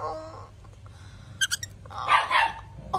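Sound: dog barking

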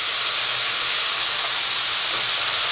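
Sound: vegetables sizzling while stir-frying for veg noodles

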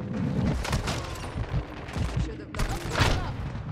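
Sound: gunfire in Call of Duty Modern Warfare 2 video game

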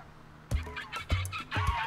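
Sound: flytrap creature calls in video game Spore

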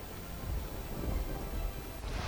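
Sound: heavy rain and thunder

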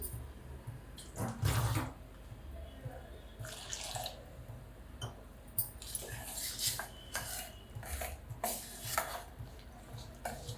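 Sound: pouring water into fasting dosa batter

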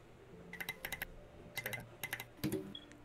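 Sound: typing on mechanical keyboard with SA keycaps, T1 switches

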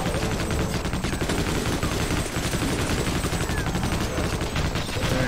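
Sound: machine gun fire, from video game Sven Co-op

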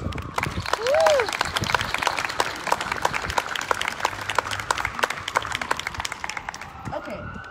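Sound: audience applause at press conference

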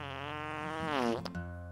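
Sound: fart sound effect from an interactive website

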